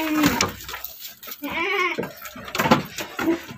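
Young ordinary local-breed goats for sale bleat repeatedly in wavering, nasal calls, several overlapping bursts close by with some background talk mixed in.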